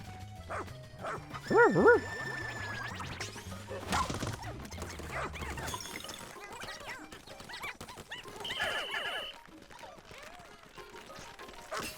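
A dog barks a couple of times in Pikmin 4, followed by thuds, crashes and whimpers amid game-like sound effects and background music.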